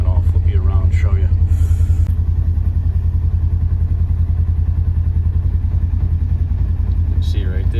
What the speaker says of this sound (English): as I'm driving down the trail